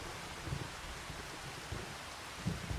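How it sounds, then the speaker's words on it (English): Rain falling in the farming game Farming Simulator 25, a soft, steady hiss of rainfall with faint low rumbles, quiet and continuous. "We're raining until 2 o'clock."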